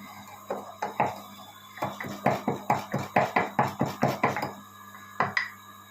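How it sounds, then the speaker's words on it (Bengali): Roasted whole spices ground by hand in a small amount for a mango chutney, giving a steady run of about a dozen dry, rhythmic pounding or crushing strokes, close and fairly loud, with a brief pause before a last few strokes. "ভাজা মশলাটাও আমি গুঁড়িয়ে নিচ্ছি"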